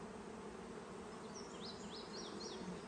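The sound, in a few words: honeybees buzzing at a hive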